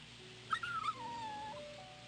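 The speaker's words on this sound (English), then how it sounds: "Oh, a little puppy." A puppy in Rule of Rose lets out a single thin, high whimper that rises and then trails off into a fading whine over a faint, steady background hum.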